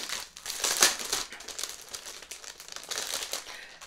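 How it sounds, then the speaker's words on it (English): Plastic wrapping is peeled off a paper-crafting subscription box up close, a run of irregular crinkles and crackles with one sharp louder crunch early on, no talk. "Let me take it out of the plastic so you can see a little bit better."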